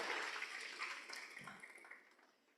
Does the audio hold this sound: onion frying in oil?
no